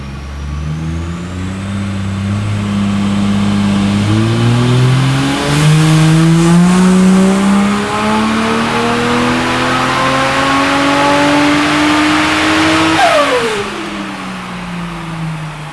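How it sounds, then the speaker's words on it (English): A Ford Territory AWD fitted with a Barra engine revs hard on a dyno, the engine note climbing in long sustained pulls toward about 6,400 rpm, dipping and rising again before dropping off sharply; loud and close throughout. "So what are you revving that to, Tony?"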